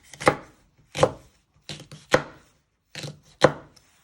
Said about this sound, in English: you first want to chop it down the middle